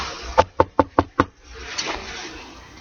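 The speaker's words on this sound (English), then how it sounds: "When she arrived, she knocked on the door." Five sharp knocks on a door in an even, quick rhythm, close and distinct, followed by a quieter stretch of faint room noise.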